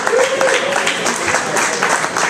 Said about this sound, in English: Give a round of applause for Beta Spring